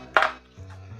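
Cheese stuffing being mixed in a bowl with pork and poultry rub, one brief, fairly loud clatter of utensil against bowl, then a low steady hum.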